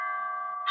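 A doorbell rings once with a clear, sustained electronic chime tone, followed by a brighter second note right at the end, heard loudly and alone.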